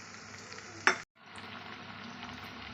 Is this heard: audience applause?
no